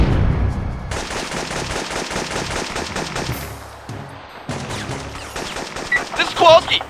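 Rapid machine-gun bursts from Syphon Filter 2, loud and close, firing in quick repeated rattles with short gaps, while shouted voices come in near the end.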